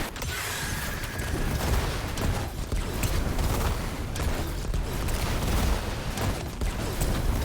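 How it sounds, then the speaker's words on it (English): Tractor Cannon weapon fire in Destiny 2 mixes with dense combat noise, several sharp blasts and booming impacts over a busy mechanical rumble, loud and continuous throughout. "start off with Tractor Cannon"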